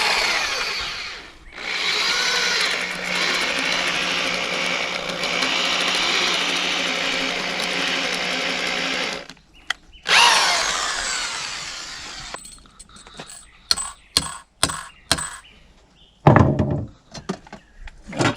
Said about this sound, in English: I'm using an electric impact driver.